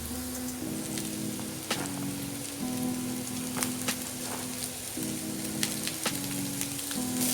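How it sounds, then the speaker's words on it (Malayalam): Onion and capsicum pieces added to fried chicken in a pan hiss and sizzle loudly and continuously, with crackling spatters and occasional stirring clicks, close by and without speech. "ഇനി ഇതിലേക്ക് സവാളയും ക്യാപ്സിക്കവും ചേർത്ത് കൊടുക്കണം."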